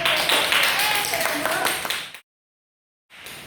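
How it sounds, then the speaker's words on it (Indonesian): A classroom of students claps together during a microteaching lesson, with a brisk burst of clapping mixed with voices that stops abruptly, followed by a brief silence and then renewed room sound. "Tepuk tangan."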